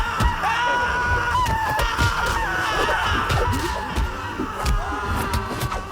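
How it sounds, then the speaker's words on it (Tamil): Slaves scream in pain on a training ground, a chaotic mix of anguished cries and wails rising and falling over a crowded, noisy background. "விரைவில் அத்தனை அடிமைகளின் வேதனையான அலறல்களும் அந்த பயிற்சி மைதானம்"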